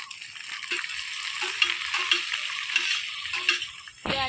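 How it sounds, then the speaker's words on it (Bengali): Chopped vegetables such as beans, onion and coriander stir-fried in a pan for chowmein: a steady close sizzle with rhythmic spatula scrapes and clinks against the metal, ending in a sharp louder clatter. "এবার আমি দিয়ে দেবো সবজি কেটে রাখা সবজিগুলো।"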